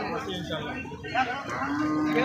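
Bull calling at a busy cattle market in Panchbibi, a short low lowing heard over steady crowd noise and nearby chatter.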